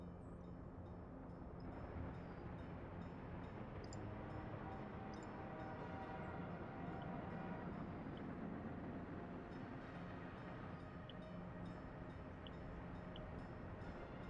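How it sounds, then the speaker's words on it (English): Trains running on rails in a railway building game, a faint, steady rumble of rolling wagons that holds constant the whole time with no talk over it. "I will move all of the iron trains into depot right now."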